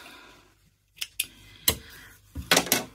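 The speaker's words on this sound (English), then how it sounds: "Needle up, snip, snip, snip." Scissors snip thread during quilting of a Single Irish Chain block, making about five sharp, close cuts with short pauses between them.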